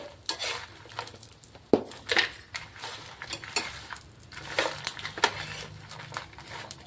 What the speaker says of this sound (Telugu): పచ్చి కొబ్బరి ముక్కలు అయితే మంచిగా ఫ్రై అయిపోతున్నాయండి